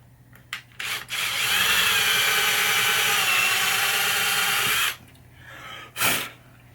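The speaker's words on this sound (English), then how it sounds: "I'm only drilling to the tape, because you got one shot at this, at drilling your holes" Power drill boring a hole with a 7/64 bit into a Bally Zenon pinball playfield, taped as a depth stop; short whirring bursts, then one sustained close, loud grinding run of about four seconds, a brief burst after.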